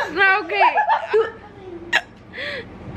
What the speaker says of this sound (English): My hiccups are so bad. I hiccup every 5 seconds.